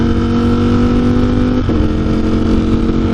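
A 2021 Ducati Streetfighter V4S with aftermarket mods idles loud and close, a steady raspy engine drone with a brief blip of throttle partway through.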